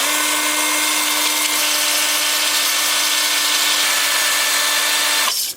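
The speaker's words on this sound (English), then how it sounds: "I'm just going to use my 2-inch sanding disc on my angle drill, and I'm just going to sand like this." A steady high-pitched whine of an angle drill with a 2-inch, 80-grit sanding disc sanding a wooden bowl, running continuously at close range before cutting off abruptly.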